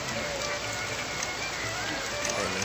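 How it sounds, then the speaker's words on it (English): Steady rain falls in a winter forest, a constant dense hiss of drops on surfaces with no pauses, loud and close throughout. "it's raining too"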